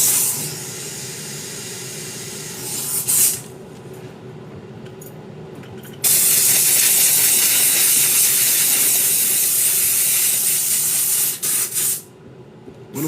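Shoe cleaner sprayed from a bottle during a shoe restoration, giving loud, steady hissing bursts: one short spray, a pause, then a long continuous spray broken by brief gaps.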